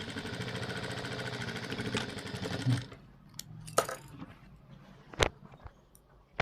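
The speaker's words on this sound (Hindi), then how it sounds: "अब हम उल्टी तरफ से सिलाई लगाएंगे" Sewing machine stitching a blouse shoulder seam from the reverse side, a loud steady motor whir for about three seconds that stops abruptly, followed by quieter clicks and handling taps.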